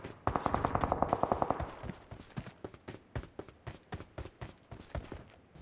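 Video-game gunfire: a rapid automatic burst fires first, then a long run of separate, evenly spaced shots, loud and close, with no voices.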